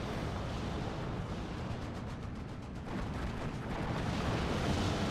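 Cluster bombs from two bombers burst over a massed group of units in Steel Division 2, a dense, continuous rumble of many overlapping explosions that swells loud and stays sustained, with no talk over it.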